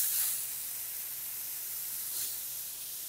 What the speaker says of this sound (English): add that orange juice right into the pan